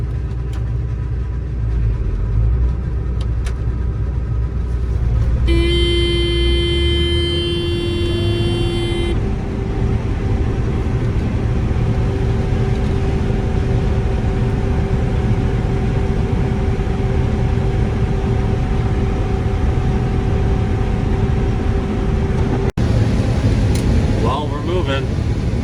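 A combine harvester with a corn head fitted drives down the road, giving a loud continuous engine rumble and drone with a steady whine and a brief tonal horn-like sound, heard from the cab.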